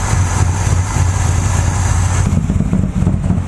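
A 1983 GMC K10 truck with a Quadrajet carburetor idles roughly and loudly up close, a low uneven engine rumble that shifts in tone partway through.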